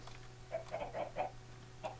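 Chickens in a farming video game's coop, a short run of soft, quick clucks repeating in a loose rhythm over a low steady hum, fairly faint and without talk.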